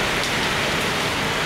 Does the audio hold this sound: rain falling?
yes